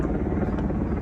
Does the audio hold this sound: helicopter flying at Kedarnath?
yes